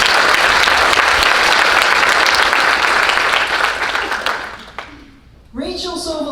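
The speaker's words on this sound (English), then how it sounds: "Let's give Tyson another round of applause." Loud, sustained round of applause from a banquet audience at a foundation dinner, thick continuous clapping that tapers off before a speaker resumes talking.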